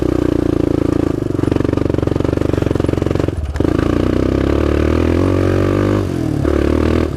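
A rented vehicle's engine lugs and bogs after a shift into third gear on a drive between Devils Backbone Resort and the Devil Anse Cemetery in the Hatfield-McCoy area, with a steady, loud low drone, a brief dropout near the middle and a second dip toward the end.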